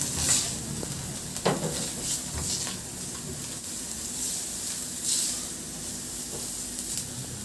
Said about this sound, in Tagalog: Sa disim na kawali, igisa ko na yung bawang.